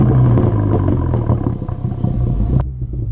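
A 2021 Mini Cooper JCW GP3 fires up, its engine catching and revving with a loud, rumbling burst before cutting off abruptly near the end; no talk over it.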